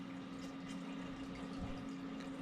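A Reefer 250 reef aquarium with excess water in its drain chamber gives off a steady low gurgle and pump hum, faint and continuous, with soft bubbling trickles on top and no voices.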